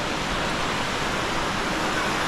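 A waterfall flows hard into deep water at the base of Longshui Gorge in Wulong, a loud, dense, unbroken roar heard up close with no voices.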